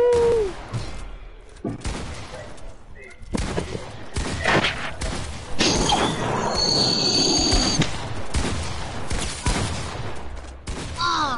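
Bursts of gunfire, impacts and explosive crashes from a shooter game pile up in a busy, dense mix, with brief tonal game effects and occasional voices underneath.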